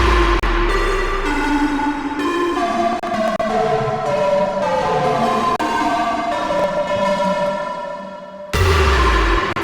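A reverb-washed Serum synth part from a song remake plays a slow chordal melody with deep bass underneath, cutting off briefly before the full loud texture returns near the end.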